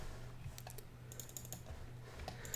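Typing on a computer keyboard while writing a Roblox Lua script, a quick run of separate key clicks, close and fairly quiet, with no voice.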